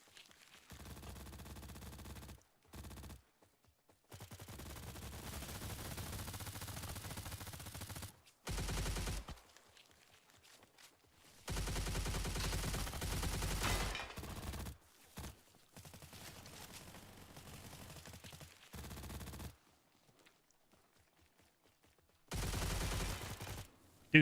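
Gunfire in the video game STALCRAFT, with several bursts of rapid shots separated by silent gaps, a steady mid-level volume and a low rumble under each volley, and no talk.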